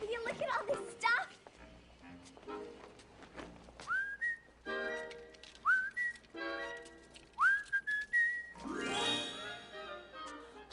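Melodic whistling of a tune, rising pitched phrases repeated several times alongside singing in a festive Christmas film scene, moderately faint with background music.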